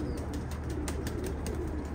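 Birds call outdoors, giving short, repeated high chirps over a steady low background hum, moderately faint and without speech.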